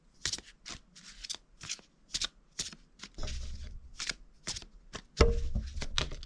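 Harry Potter themed cards shuffled by hand for a card reading, a rapid series of crisp riffling bursts close to the listener, ending in a louder flurry as the deck is squared.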